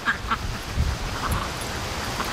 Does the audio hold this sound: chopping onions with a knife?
no